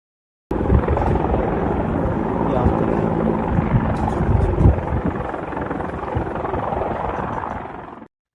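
A helicopter flies during a cable car rescue evacuation in Antalya, its steady loud rotor and engine roar holding for several seconds before cutting off.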